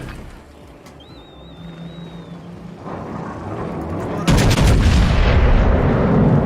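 Warship guns in World of Warships, a rumbling engine bed that swells before a heavy, loud salvo bursts in and the blast roar sustains to the end.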